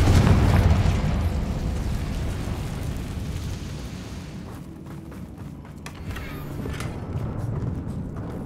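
Incendio and Confringo spells cast in Hogwarts Legacy inside a mine, a loud fiery burst at the start that decays into a rumbling roar, fading over several seconds with faint crackles.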